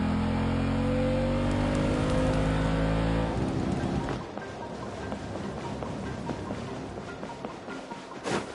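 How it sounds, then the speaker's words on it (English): Vehicle engines in Genshin Impact rev loudly with rising pitch for a few seconds, then cut off, leaving a quieter rumbling, clattering background with a sharp burst near the end. "Rev the engines!"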